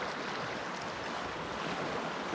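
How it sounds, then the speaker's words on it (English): A mountain river flows, a steady broadband rush of water heard close and continuous with no voices. "Got this nice river"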